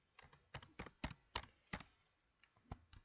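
Keys clack on a computer keyboard in short bursts of quick taps with brief pauses, close and fairly quiet, as a Java compile command is typed out.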